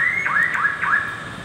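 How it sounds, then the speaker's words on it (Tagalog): A car alarm on a 2016 Suzuki Alto 800 sounds close and loud, giving three rapid rising-and-falling electronic warbles in quick succession with no voices. "Unlock, unlock para mawala yung alarm."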